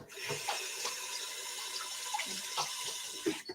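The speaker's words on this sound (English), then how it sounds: "I'm just going to rinse my hands" Kitchen tap running while hands are rinsed under it, a close steady splashing stream with uneven spatters and drips as the hands move, no talking.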